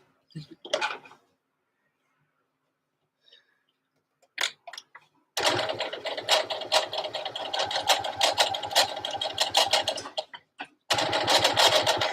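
A sewing machine stitches a dress in two long runs of steady, rapid mechanical chatter, separated by a brief pause, with a few short taps and clicks before the first run. The sound is close and fairly quiet, with no talking.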